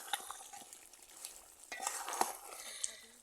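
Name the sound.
stirring chicken skin bhuna in a pan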